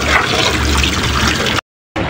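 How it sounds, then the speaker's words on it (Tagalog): Water drains out of a water heater tank during reconditioning, a loud, steady rushing gush that stops suddenly near the end before a short resumption, with no talking. "So i-drain natin lahat yung tubig bago natin ilagay yung heating element."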